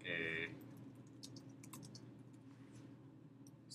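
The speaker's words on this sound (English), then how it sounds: "You'll see I can type in this document." Brief keystrokes on a computer keyboard while text is entered into a document, a quick burst of clicks at the start followed by faint, sparse tapping in a quiet room.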